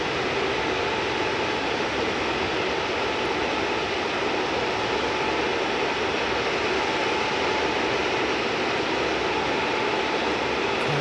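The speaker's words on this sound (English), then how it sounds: "Getting a hold because there's an aircraft on its way in" An airliner approaches to land, heard from a viewing mound near the runway as a constant, broad jet roar that holds steady in level throughout.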